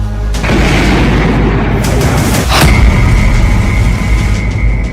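A drone strike in Moscow: a heavy explosion booms loudly, followed by a sustained rumbling roar and a second sharp crack partway through.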